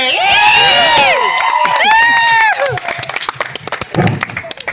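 Students at an NSS camp cheer the youth leaders with loud, high whoops and shouts, followed by a burst of scattered, close hand clapping from the group.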